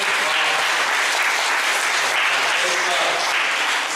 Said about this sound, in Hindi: तो क्यों ना फिर से एक बार हम खुद के लिए जोरदार ताली बजाते हैं।